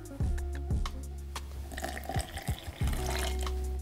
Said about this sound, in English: we're gonna pour it straight in